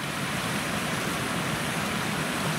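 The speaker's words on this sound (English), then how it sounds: "On the shortcut trail, the creek has appeared." A creek runs beside a mountain hiking trail on the Dumbbell Lakes Loop, a steady, close broadband rush of water that stays even throughout with no voices.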